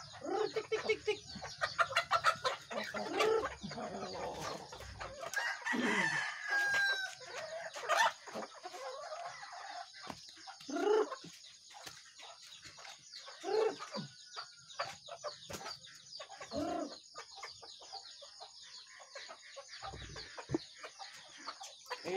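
Pet chickens cluck busily while being fed organic feed, with repeated close clucks, scattered squawks and a rooster crow amid the flock.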